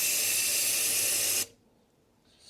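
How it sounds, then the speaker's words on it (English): Brake cleaner hisses hard from a spray can into cylinder number 1 of a Mini Cooper S engine, one loud continuous burst that cuts off sharply, followed by a brief faint second spritz. "I'm going to spray some brake cleaner in cylinder number 1."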